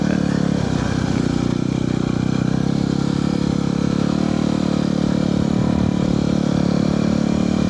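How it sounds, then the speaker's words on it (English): A Yamaha WR250R motorcycle rides through sand with some gravel, its engine droning steadily and loudly up close with a constant rumble and faint clatter, no talking. "Trying out some sand. Little gravel in there too. Sand is hard to ride in."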